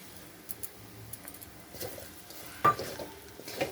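Spices being stirred in a pan over a low gas flame for sambar dal: soft, intermittent scraping and light clinks of a spoon against the pan, quiet and close, with no talking.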